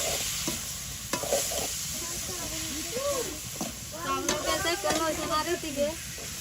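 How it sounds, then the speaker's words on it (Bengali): Small river fish (isha) being sautéed with potatoes in a pan, with a steady sizzle and repeated stirring scrapes, while a voice murmurs faintly in the background. "ইসা মাছ কষানো হয়ে গেছে, তো এখন দিয়ে দিচ্ছি আলু।"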